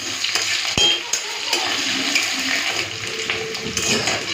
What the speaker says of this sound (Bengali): পেঁয়াজটাকে লাল করে ভেজে নিয়েছি।